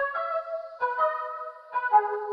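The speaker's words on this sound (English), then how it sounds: "The exact preset is actually called Butterflies" The Analog Lab synth preset Butterflies plays clean, bright sustained chords in three evenly spaced stabs with soft shimmering tails. It is heard alone with no talking.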